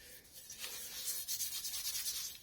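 Emery cloth rubbed by hand over a Delkevic stainless exhaust on a Honda VFR800, smoothing out nicks and burrs: a steady, close, hissy abrasive scrubbing in quick repeated back-and-forth strokes, with no talk.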